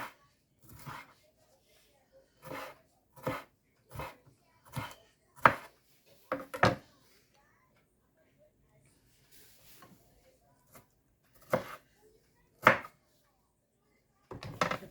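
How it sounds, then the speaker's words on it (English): A knife chopping peppers on a board, sharp separate thuds in irregular bursts with pauses between, close and clear in a quiet room. "Let's cut the peppers."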